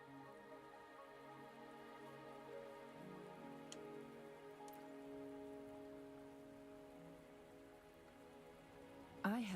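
Steady rain falls in the video game Wuthering Waves, a constant even patter on surfaces lasting throughout, with a brief louder burst at the very end.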